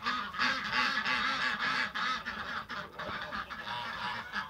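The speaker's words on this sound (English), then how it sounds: "I've been locking the goats up and the birds, so it's gonna get loud" Farm geese and ducks honk and quack loudly together on a cold December morning, a dense continuous chorus of overlapping calls close by with no talking.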